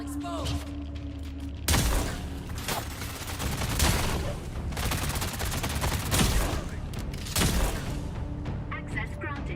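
Pistol gunfire in a loot-based survival shooter, sharp repeated shots and dense bursts throughout, close and loud amid game noise with people talking over it.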